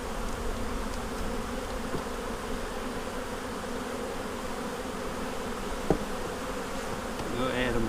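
Honey bees hum steadily and densely throughout, heard up close during a springtime inspection and splitting of brood hives, with a brief sharp knock near the end.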